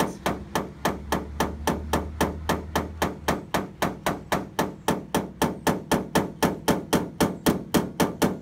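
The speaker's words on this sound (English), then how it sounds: "once you use the hammer a little bit" Blending hammer of about 4.5 pounds tapping a dent on a Dodge car body panel, a long rapid run of even, sharp metallic taps in steady rhythm, close and clear.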